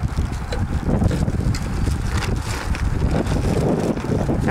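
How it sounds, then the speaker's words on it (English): Wind gusting around a sailboat, a loud, ragged rush with buffeting on the microphone that continues unbroken throughout. "I said here is some of your fuel in the air. Yes, the wind. Very definitely. You can hear it."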